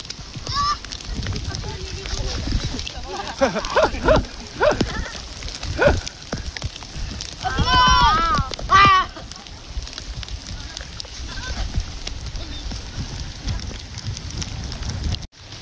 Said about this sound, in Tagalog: Nalakas na ang ulan.